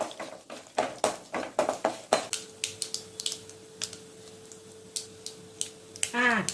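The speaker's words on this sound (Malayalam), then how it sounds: "കടുക് പൊട്ടിക്കഴിഞ്ഞു." Mustard seeds crackle and pop in hot oil with toasted dal and roasted peanuts, a quick run of sharp snaps that slows into scattered pops, with a faint steady tone underneath.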